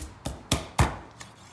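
A big knife chops through rabbit on a cutting board: four crisp, evenly spaced thuds and a fainter fifth, close up and alone.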